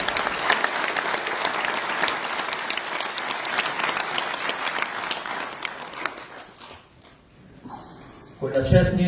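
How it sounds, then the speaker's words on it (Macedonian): An audience applauds a director, a dense sustained wash of clapping that fades out toward the end before talking begins. "сакам еден аплауз за режисерот Јани"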